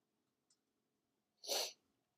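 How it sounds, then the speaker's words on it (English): A single sharp sneeze from a person during a seated guided session, loud and brief, following a faint breath in an otherwise quiet room. "I'm going to sneeze again."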